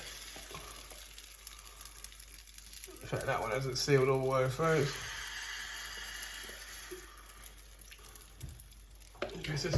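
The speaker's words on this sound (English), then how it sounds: "You can hear that sizzle. There's enough heat to sizzle it." A soft, steady sizzle of vegan crumpet batter in a pan over moderate heat runs throughout while a person talks over it.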